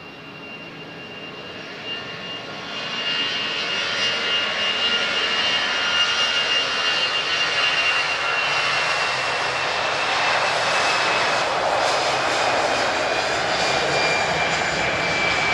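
Airbus A320ceo jet engines at Lisbon Airport, a broad roaring whine swelling from moderate to loud over about fifteen seconds as the aircraft powers up and passes, steady and without voices.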